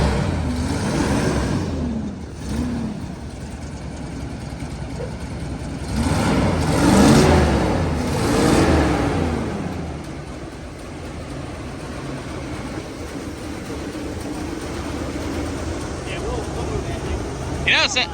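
A custom squarebody Chevy dually truck's engine revs up and settles back to a steady run, rising in two swells midway, with people talking over it throughout.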